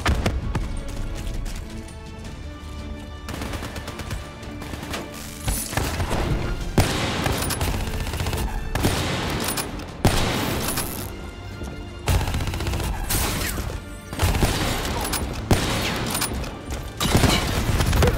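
Heavy gunfire from Call of Duty Black Ops 3 crackles in repeated volleys of automatic shots and booming impacts, loud and close, with short lulls between bursts.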